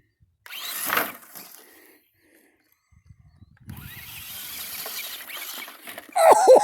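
A Jegs Torch radio-controlled monster truck on its first run, with a short burst of motor whine near the start, a quiet gap, then a sustained rougher whirring drive that ends in a loud close clatter.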